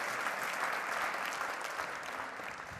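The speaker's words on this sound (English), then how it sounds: "Give him a round of applause because he's going to join me on stage." A conference audience applauds steadily, a dense wash of many hands clapping that holds evenly loud and then eases slightly toward the end.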